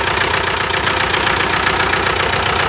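A VW TDI diesel engine runs steadily with a stuck piston ring and heavy blow-by, giving a loud, continuous knocking clatter up close with no pauses.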